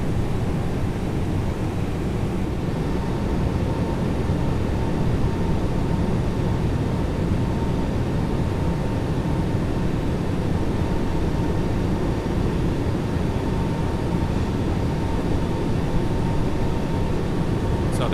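Airbus A321 with Pratt & Whitney engines in a flight simulator soundpack, settling into a steady bassy engine drone at level-out after climbing to 250 knots; a continuous loud low rumble with a faint whining tone runs throughout.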